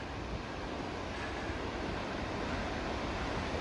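Veslulfossen waterfall in Rondane National Park, Norway, a steady broadband roar of rushing water, constant and fairly loud with no voices.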